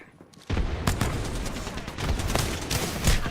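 Rapid bursts of gunfire and a grenade blast in a first-person shooter, opening with a near-silent moment before a sudden loud, continuous barrage of overlapping shots and explosions.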